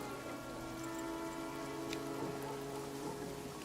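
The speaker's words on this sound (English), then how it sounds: "It is, however, now raining." Steady rain falling in the trench warfare game All Quiet in the Trenches, a soft, even hiss of drops on surfaces over low tonal background hum, with no speech.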